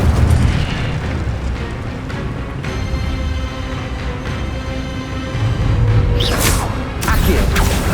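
Incendio fire spell cast in Hogwarts Legacy, a loud roaring burst of flame over dense rumbling game noise, followed by a bright whooshing flare near the end.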